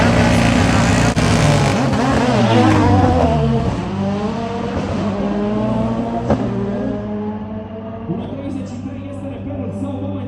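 Rally cars at the Sinaia rally in Romania roar past, engines revving loud and close and then fading as gears shift, with an announcer talking over a loudspeaker and a crowd in the background.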